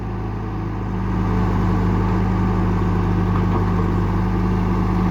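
A CAT E120B excavator's diesel engine idling, close and steady, with a constant low hum that firms up slightly under light throttle and then holds evenly.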